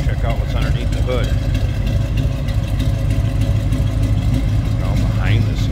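A 1979 Chevrolet Malibu Coupe engine running with a steady, rumbling idle and a brief rev, close and loud, while someone talks over it.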